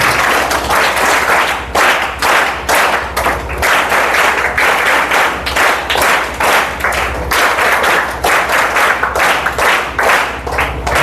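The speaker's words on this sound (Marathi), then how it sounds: "विनम्रपणे टाळ्या वाजवून" An audience at a Vachan Prerna Din lecture event gives sustained, dense applause to honour a felicitation, with many hands clapping steadily and loudly throughout, with no talk.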